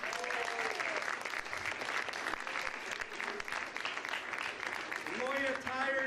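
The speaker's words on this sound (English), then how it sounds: "big round of applause for Pettis." An audience at a boxing weigh-in event claps, a steady dense patter of applause that lasts several seconds. A voice on the loudspeaker talks briefly over it at the start and end.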